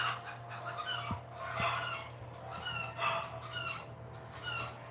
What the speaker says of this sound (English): I think 2 chickens are like fighting.